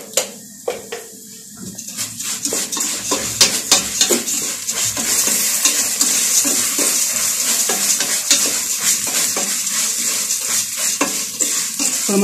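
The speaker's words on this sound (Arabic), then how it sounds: "طول ما احنا ايدينا فيها كده نقلبها على طول لتطلع ذهبيه وجميله جدا" Vermicelli for rice fries in a pan while being stirred constantly, a loud close sizzle packed with scraping and clinking spoon strokes, building after a few sparse knocks at the start.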